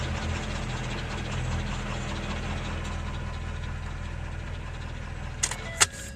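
A 2013 Ford F-550 truck engine idles evenly after a repair for a no-start fault, a steady low rumble with faint knocking texture and two brief sharp clicks near the end.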